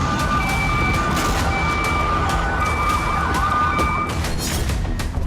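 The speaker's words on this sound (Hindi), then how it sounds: "बार बार सायरन बज रहे हैं" Air raid sirens sounding in Israel during a missile attack, a loud, repeating wail with pulsing tones over a steady noisy background, heard close and without talk.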